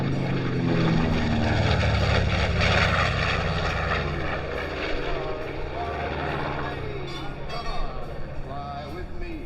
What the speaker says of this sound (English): Not only could you see the bomb bay, but the great sounds of the two large radial engines.